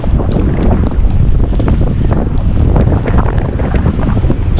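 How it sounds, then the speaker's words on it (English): Strong coastal wind at Saltwick Bay, Yorkshire, blasts and buffets the microphone continuously, a loud rumbling roar with gusty surges and no speech. "That wind is terrible."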